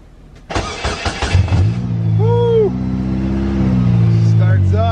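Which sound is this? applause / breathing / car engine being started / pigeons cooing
car engine being started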